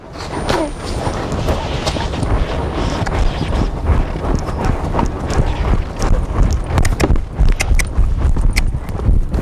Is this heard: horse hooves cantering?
yes